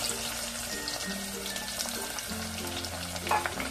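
Chopped onion sizzles and fries steadily in hot oil with cinnamon, cloves and peppercorns for a Punjabi kadhi pakoda, a dense close crackle with occasional stirring and a low background hum.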